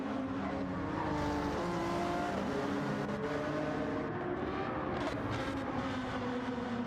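Race car engines roar in Gran Turismo 7 as a racer closes on a Peugeot with a Honda behind, layered revving engines shifting pitch under steady road noise, continuous and moderately loud.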